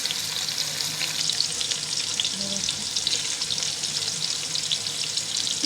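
Onions frying in a pan with whole garam masala and salt, a steady close sizzle with faint crackle running throughout, no voices.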